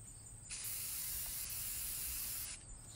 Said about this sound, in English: I'm just randomly picking up cans and spraying them on the water here.